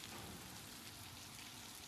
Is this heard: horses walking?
no